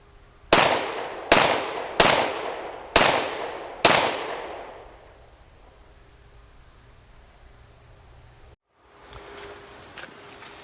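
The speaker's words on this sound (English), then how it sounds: "Let's try 5 more shots from 25 yards." Five loud, evenly spaced pistol shots from a Glock 17 fitted with an MCK conversion kit, fired at 25 yards at an outdoor range. Each sharp crack leaves a short ringing tail, followed by a quiet stretch.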